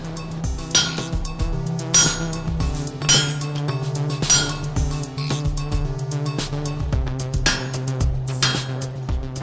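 A forged iron sword blade is hammered flat on an anvil with a flatter, giving loud close metallic strikes at an uneven rhythm, each one clinking and ringing over a steady resonant hum.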